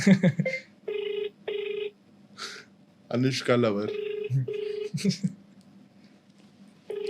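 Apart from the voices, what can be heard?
phone call ringing unanswered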